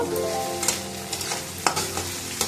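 Hand-stirring of sabudana pulao in a kadai gives soft, irregular scraping swishes over a steady low frying sizzle, with a few sharper knocks against the pan standing out.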